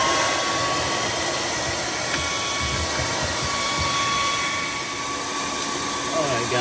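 A Samsung refrigerator fan blade scrapes against built-up ice, making a steady, loud, rough whirring and grinding that runs unbroken throughout.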